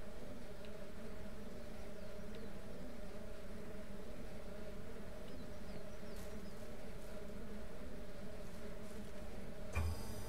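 Bees buzz steadily around beehive frames in the Ranch Simulator game, a continuous low droning hum that holds at an even level from start to finish, with a brief bump near the end.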